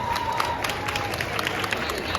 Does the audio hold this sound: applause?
yes